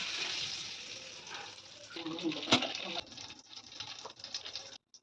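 Butter and oil hit a hot pan for chicken biryani, giving a loud crackling sizzle and spatter that fades and flares again, with brief clatter and a cut-off at the end.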